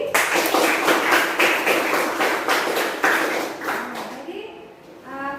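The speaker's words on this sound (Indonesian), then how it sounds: "Berikan aplaus dulu untuk Budi." Classroom applause breaks out for a student, a dense patter of many hands clapping steadily for several seconds before tapering off, with a few chattering voices near the end.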